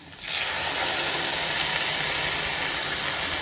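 A loud, steady hiss of masala frying in a hot pan for Kerala-style egg curry, starting abruptly and holding an even sizzle throughout with no talking.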